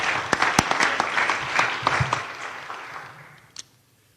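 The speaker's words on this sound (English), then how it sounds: "let's give him a huge round of applause" An audience at a New Jersey bill signing in Paterson applauds, a fairly loud burst of many hands clapping with sharper individual claps, fading out toward the end with one last clap.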